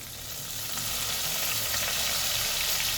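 Curry leaves and spices, including coriander powder and chilli powder, sizzle and fry in hot oil over a low flame, a steady close crackling hiss that swells slightly and holds without speech.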